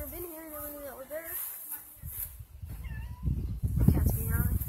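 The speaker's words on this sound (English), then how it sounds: "Cats being out." A cat meows outdoors near a pond on a walk, with several rising and falling cries early on, then rougher sounds as people talk and move nearby.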